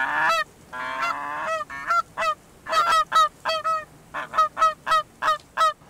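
A large flock of geese honks during a Kansas goose hunt, a chorus of overlapping calls at first, then a rapid string of separate honks repeating in quick rhythm, fairly close and loud over a quiet field.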